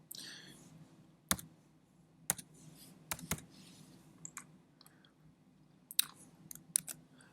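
Keystrokes on a computer keyboard while working in 3D modelling software, a few sparse, separate clicks and taps spread over several seconds, fairly close and alone with no talking.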